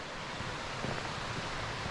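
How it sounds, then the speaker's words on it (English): A small waterfall in a forest creek on the Horton Creek trail near Payson, Arizona, gives a steady, close rushing wash of falling water with no break and no voices. "Little baby waterfall."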